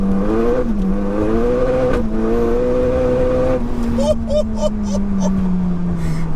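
A tuned 607bhp Seat Leon Cupra pulls hard in third gear with rolling anti-lag, its loud engine note climbing steadily and then popping and crackling in bursts near the end, while a voice talks over it.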